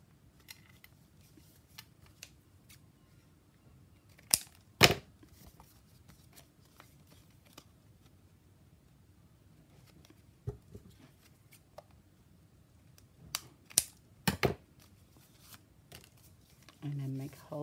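Scissors cut through stacked paper pieces for a junk journal, giving a few sharp, sparse snips and crisp paper clicks against a quiet background, with a brief rustle near the end.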